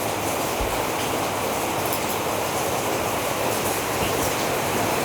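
A Honda 125 BH6 motorcycle engine idles steadily with engine flush added to the old oil, giving a continuous, dense mechanical rumble close by with no breaks.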